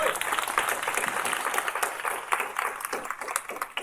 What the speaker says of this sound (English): So can we just give her a quick round of applause?